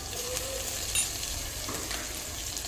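Green chilli, garlic and ginger paste fries in a pan with a bright, steady sizzle while a spoon stirs it, giving soft scraping clinks near the middle.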